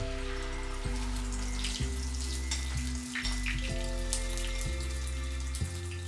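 Omelette egg mixture poured into a generously oiled pan over medium heat fries with a soft, continuous sizzle and crackle, close up, alongside a steady low hum.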